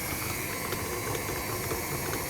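A mixer kneads fresh masa dough for homemade tortillas in a bowl, giving a steady, dense whirring churn with faint rhythmic clicks that runs unbroken throughout.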